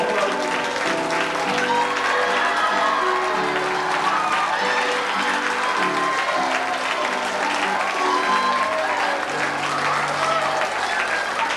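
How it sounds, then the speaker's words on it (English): An audience applauds a performer being brought on stage at a 1991 church clergy road show, a dense, sustained clapping from a crowd heard steadily throughout. "Come on, give him a round of applause."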